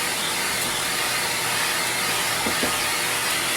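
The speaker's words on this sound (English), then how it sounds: "This is just a household vacuum, an old Electrolux with a HEPA filter." An old Electrolux household vacuum cleaner with a HEPA filter runs steadily at close range, a loud constant whooshing roar with no pauses.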